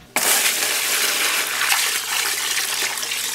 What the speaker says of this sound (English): Basically, we just dump the water in here.